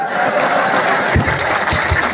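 A crowd of listeners at a Hindi comic poetry recital in Biaora claps loudly and steadily, a dense continuous wash of applause with some muffled thumps and cheering mixed in.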